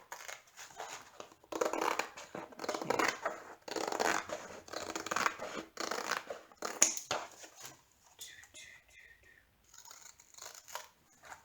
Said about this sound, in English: now I'm just gonna cut out that excess canvas so then I could cover it with the tape after